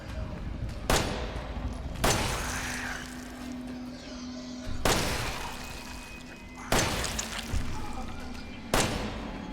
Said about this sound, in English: So I'm just going to use a little bit of handgun ammo.